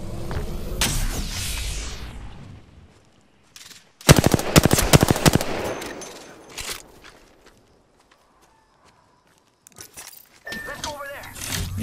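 Bomb bots firing in the Horizon video game: bursts of rapid gunfire and clattering impacts broken by quiet gaps, with loud chaotic bursts and a voice speaking over parts of it.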